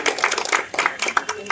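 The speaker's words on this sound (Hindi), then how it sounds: "जोरदार ताली लगाओ जी।" Brief bursts of close clapping from a small group at a free-education giveaway, under and between loud talk.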